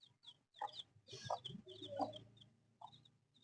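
A hen clucks softly and repeatedly as she pecks at grain alongside her chicks, with small high peeps from the chicks mixed in, close and fairly quiet with no speech.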